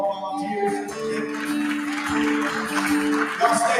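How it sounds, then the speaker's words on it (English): Applause and crowd noise for volunteers at a National Law Enforcement Officer Hall of Fame event, steady clapping mixed with sung or spoken voices and tonal music over it, moderately loud throughout. "Round of applause for all the volunteers"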